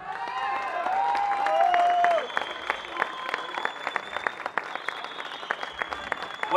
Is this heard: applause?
yes